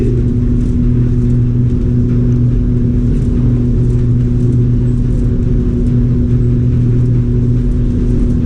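Airport terminal express tram at Detroit Metro McNamara Terminal, a steady loud interior hum and rumble of the moving car with a constant low drone throughout, no talk.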